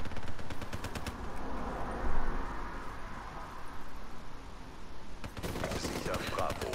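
Rapid automatic fire from an M8 rifle in the video game Black Ops 3, a sustained stream of shots with a louder burst midway, continuing under game noise while someone talks over parts of it.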